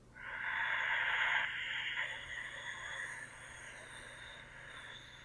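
A soft, airy hiss of Ujjayi breath exhaled through the nose with slight throat constriction during chair yoga, one long steady exhale that fades gradually.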